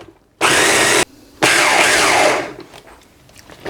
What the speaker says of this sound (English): now we're going to blitz this until the onions sort of like break down into small pieces with the rest of the ingredients